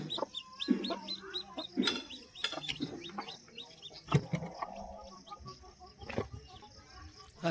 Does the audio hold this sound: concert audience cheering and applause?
no